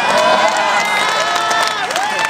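Audience at a political convention applauding and cheering in a dense, steady wash of clapping and crowd noise, with voices rising above it throughout.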